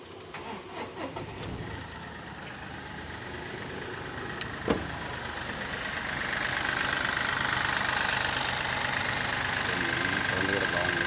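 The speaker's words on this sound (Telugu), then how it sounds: "ఇంజన్ సౌండ్ కూడా కావాలంటే" A used car at a Kadapa car bazaar starts up with a few cranking bursts and a sharp knock, then settles into a steady idle that grows slightly louder, with people talking nearby.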